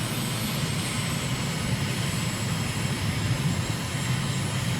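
Steady aircraft engine drone from a light plane in Microsoft Flight Simulator over the Cape region of South Africa, a continuous broadband roar with strong low rumble, loud and unbroken throughout.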